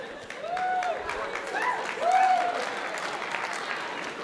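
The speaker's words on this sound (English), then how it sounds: "give that a round of applause" An evening church-hall audience applauding over pizza news, a loud sustained wash of clapping from a crowded room with a couple of cheering whoops rising over it.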